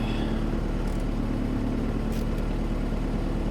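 A Honda CR-V with a B20 VTEC engine idling, a steady close, low hum with an even rhythm that runs without a break and without voices.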